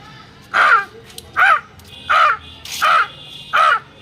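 A voice mimics a crow, giving five loud, evenly spaced caws close by.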